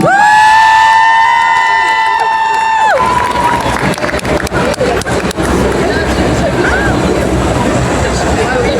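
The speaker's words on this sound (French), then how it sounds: "on applaudit bien fort" A crowd at the Summer Geek Days fan convention in Lille claps and cheers in a loud, dense wash after a sustained tone cuts off, with sharp individual claps and shouts standing out and voices babbling throughout.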